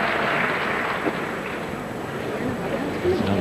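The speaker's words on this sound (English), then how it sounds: "Sympathetic applause rather than anything else for Ilia." Sympathetic applause rolls steadily through a figure skating arena at the 2004 World Championships men's short program, a dense, even wash of clapping that carries on for the whole stretch without a clear peak.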